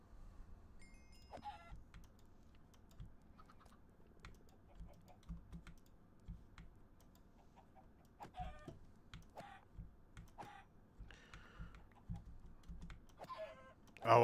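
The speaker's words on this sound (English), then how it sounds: "Oh, I hit the baby chicken." Faint clucks and cheeps from a baby chicken in Minecraft's FTB Skies modpack come in scattered bursts over quiet keyboard typing and soft game ambience.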